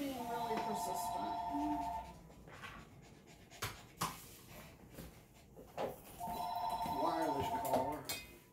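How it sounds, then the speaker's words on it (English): A telephone rings insistently in two bursts of ringing separated by a pause, with household knocks and clatter in between and a voice speaking nearby. "Chuck, will you bring me a phone so I can see who that is?"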